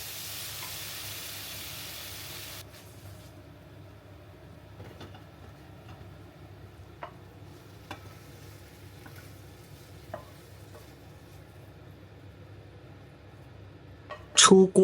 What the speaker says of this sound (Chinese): 翻炒几下